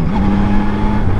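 A 2024 Yamaha Tracer 9 GT+ motorcycle engine, heard close and loud, holds a steady throaty drone with a slight rise in pitch as the throttle opens, with no voices.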